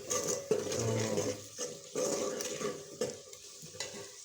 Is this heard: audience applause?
no